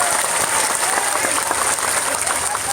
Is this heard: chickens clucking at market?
no